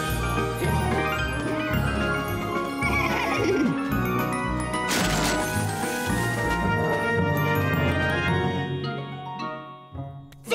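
Horses whinny and neigh over a busy musical backdrop, with a loud crash partway through and light clip-clopping, lasting several seconds without talk.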